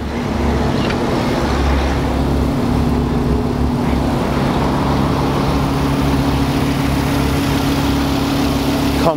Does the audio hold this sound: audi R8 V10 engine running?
yes